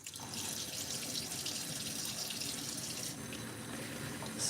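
Tap water runs steadily into a sink while a doll is rinsed, a continuous close splashing hiss with no talking, late at night.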